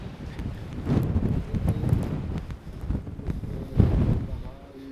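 Strong wind blows through a village in Morocco, buffeting the microphone in loud rumbling gusts that swell and fade, with someone talking over it at times.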